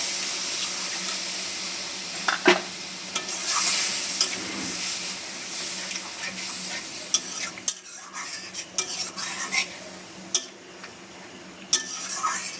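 Water poured into a sizzling spice masala for a paneer curry as it is stirred in a pan, a steady close hiss and bubbling with intermittent sharp scrapes of a spoon, no talking.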